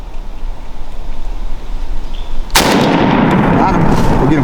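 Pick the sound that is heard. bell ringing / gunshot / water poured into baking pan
gunshot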